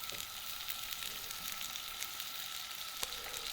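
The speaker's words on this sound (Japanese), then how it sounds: "まだ温まってないフライパンでゆっくり火を入れていきます" Rack of lamb slowly searing in a not-yet-hot frying pan with a little oil, giving a steady, quiet sizzle throughout with one faint clink near the end.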